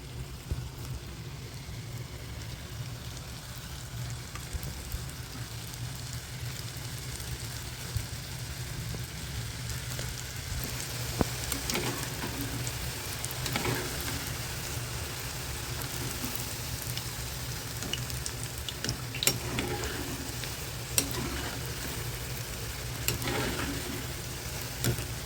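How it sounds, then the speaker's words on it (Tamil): Oats chilli chapati pieces frying in hot oil over medium heat, a steady close crackling sizzle with scattered pops that continues alone throughout. "இந்த எண்ணெயில் இது மாதிரி ஒன்று ஒன்றா போட்டு எடுத்துடலாம்"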